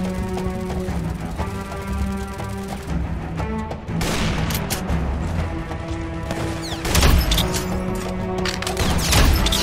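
A toy gun fires in the Roblox video game, with repeated bursts of sharp shots over continuous game music.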